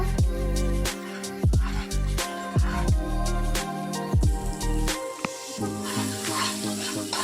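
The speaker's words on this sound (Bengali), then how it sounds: "ভালো করে মশলাটাকে ফ্রাই করে নেব" Biryani spice masala with torn green chillies and salt frying in a pan, a loud close sizzle with repeated scraping and clanking stirs, and a low hum running underneath.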